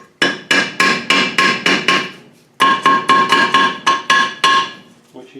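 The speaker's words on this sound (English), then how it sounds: "use a piece of cardboard, and then using the ball of our hammer" A hammer's ball end strikes through cardboard onto a gearbox during reassembly: two sharp bursts of about six and eight loud metallic blows, evenly paced and ringing briefly, separated by a short pause.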